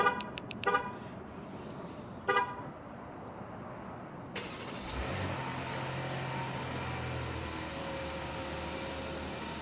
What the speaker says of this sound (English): it's a much quieter startup for this Ram 1500 Tungsten